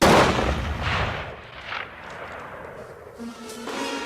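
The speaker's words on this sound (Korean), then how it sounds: "총성이 울린 곳으로 가보니 사슴이 총에 맞아 쓰러져 있었죠" A gunshot in a film's forest deer-hunting scene: a loud sharp report at the start that decays into a rumbling echo, followed by quieter outdoor ambience with faint later sounds.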